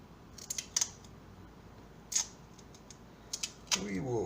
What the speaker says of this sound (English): We will cut a piece roughly the size we need.